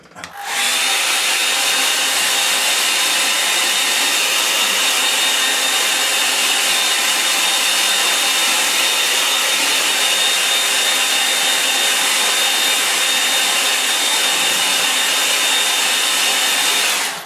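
Hair dryer blowing on a watercolour painting, switching on abruptly and then running as a loud, steady whooshing roar with a high whine throughout, alone with no talk.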